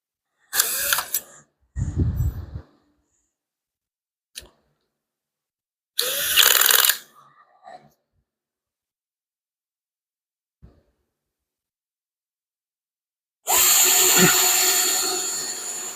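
A bolt is tightened on a 6.4 Hemi engine test stand in a few short bursts of a power tool or ratchet, separated by silence and small clinks, with a longer final burst.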